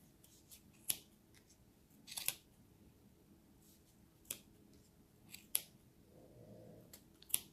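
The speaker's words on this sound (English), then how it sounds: "you want to make sure you have some good scissors to cut" Scissors cutting through thick crochet yarn, several sharp snips spaced a few seconds apart, close and fairly quiet with no talking.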